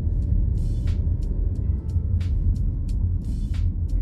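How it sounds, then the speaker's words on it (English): Road noise inside a 2023 Volkswagen Tiguan SE on the move, a steady loud low rumble with periodic brief hissing ticks on top, no talk. "driving the Volkswagen Tiguan SE."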